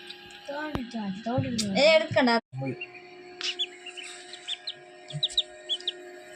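Newly hatched chicks and ducklings from a home incubator give high, repeated peeping chirps in irregular bursts, close by, partly overlapped by a person talking early on.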